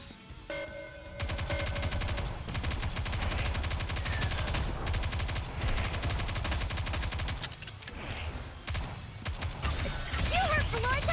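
Gunfire in the video game Nikke: Goddess of Victory, a long sustained stream of rapid, evenly paced shots with a mechanical clatter, steady and loud, breaking off briefly near the end before resuming.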